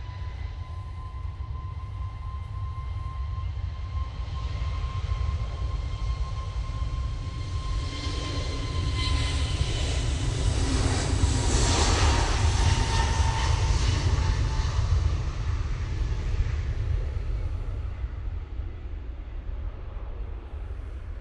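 An airliner takes off from Manchester on a flight to Corfu, its jet roar swelling from a steady rumble to a loud broadband peak midway as it passes, then easing off, with a thin engine whine underneath and no talking.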